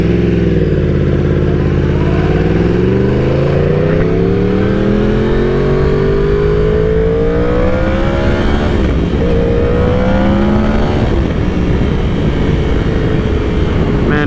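A sport bike rides through city traffic, its engine loud and close, rising and falling in pitch as it revs and shifts, with steady road and wind noise underneath.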